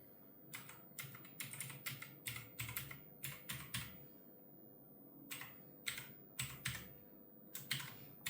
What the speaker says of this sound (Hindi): ये मैं ईमेल लिख रहा हूं